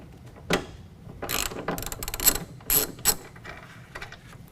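Ratchet wrench clicking in several short bursts as it backs a 13 mm nut off a multi-pro tailgate on a 2019 Chevy/GMC 1500 pickup, close and fairly loud, with no talking.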